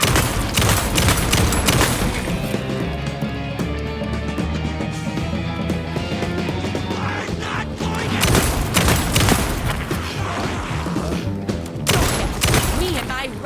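Dense, continuous gunfire from the video game Alan Wake 2, rapid shots and booming blasts layered over one another and loud throughout.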